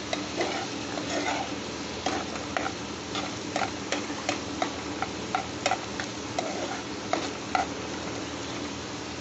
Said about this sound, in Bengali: ভাজা ভাজা হয়ে এসছে প্রায়